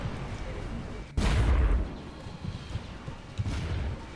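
A sharp heavy spaceship MAC cannon blast in a Halo video game booms suddenly, followed by rumbling and a second softer blast, with no talking.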